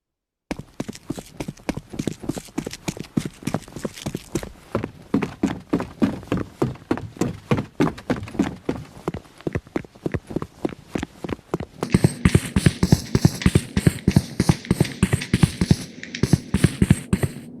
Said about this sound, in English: we'll play the footstep sounds from Valorant and CS:GO when enemies are nearby.